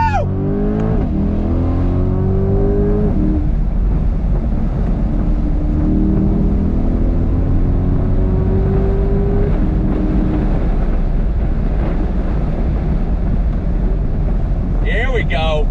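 A 2022 Chevrolet Corvette C8 accelerating hard on throttle, a loud, close engine roar climbing through rising gear sweeps with brief shift breaks, then easing off near the end.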